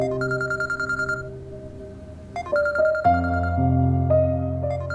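A phone rings with a repeating electronic melodic ringtone in a Hindi drama scene, steady tonal bursts running throughout over a low musical bed.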